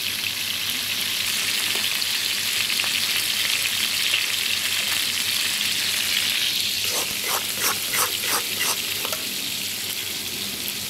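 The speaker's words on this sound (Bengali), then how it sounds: "পেঁয়াজটা আমরা ভেজে নিয়েছি" Onions fry in oil for a thin Sylheti katla fish curry, a constant hissing sizzle that runs throughout, joined partway by a quick series of scraping stirring strokes, with no one talking.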